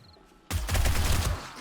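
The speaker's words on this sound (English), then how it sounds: "It was Mel Gibson's gun in Lethal Weapon, Riggs' gun" The Lethal Weapon pistol fires in the survival game 7 Days to Die: after a short quiet lead-in, a sudden loud volley of close, rapid shots lasts about a second before tailing off.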